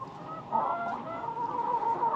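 Laying hens cluck close by, a run of soft, wavering calls from one or two birds over a quiet farmyard background.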